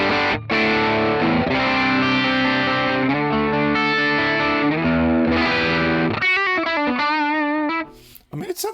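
Electric guitar played through a modeled Roland Cube clean amp, a steady run of sustained chords and notes with a light effect shimmer, ending in a few wavering, vibrato-like notes before cutting off.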